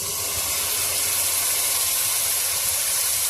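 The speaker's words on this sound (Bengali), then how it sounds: "পেঁয়াজগুলো পুরো ভাজবো না, আর আদা ভাজা করে নেবো" Onions and ginger fry in a pan with a steady, loud, even sizzling hiss that holds without a break.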